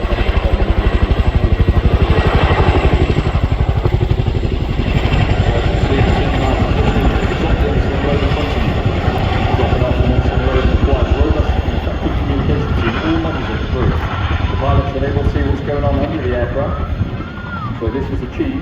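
A military helicopter flying at the RIAT airshow, its loud, steady rotor thump and engine roar persisting throughout as someone narrates over it continuously.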